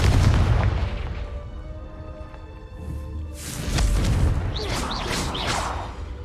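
Confringo blasting spell exploding in Hogwarts Legacy: a booming blast with rushing whooshes, then a second burst of crackling, swishing bangs over a low game rumble.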